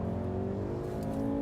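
A 2014 Volkswagen Golf R turbocharged engine revving, a close, loud, steady buzzing drone that holds a constant pitch and swells slightly at the end.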